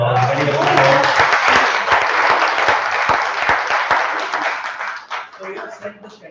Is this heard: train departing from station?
no